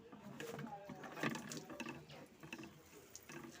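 A sprayer mists a liquid plant solution onto tomato plants in a garden, making a soft, uneven, continuous wet hiss that swells and fades in short bursts at low volume.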